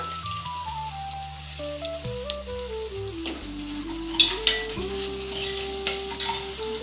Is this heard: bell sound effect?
no